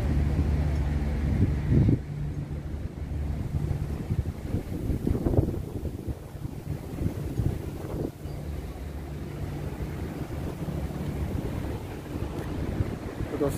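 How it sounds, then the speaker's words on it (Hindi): Strong gusts from Tropical Storm Ma-On, with Signal No. 8 raised, batter the microphone as a steady, rough, low roar that swells and eases over about fourteen seconds, with no speech. "जैसे कि आप देख ही सकते हो कि यहाँ पर कितनी तेज़ हवा है"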